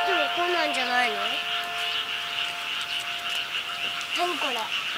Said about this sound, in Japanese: 何これ、カエルの天国に来ちゃったの。